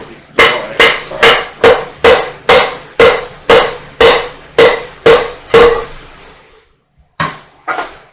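A hammer striking wood and denting it, about a dozen sharp, loud, evenly spaced blows in a steady rhythm, a pause, then two more hits.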